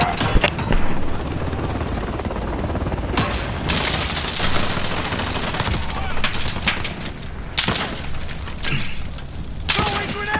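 Gunfire and explosions in the video game Modern Warfare during a helicopter entry, with dense bursts of automatic shots, booms and thuds over a rumbling rotor-like drone, loud and near, with voices talking at times.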